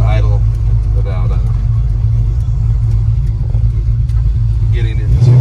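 A 1977 Chevrolet C10 pickup with a big-block V8 and rear-exiting exhaust idles with a loud, deep, steady rumble, while someone talks over it throughout.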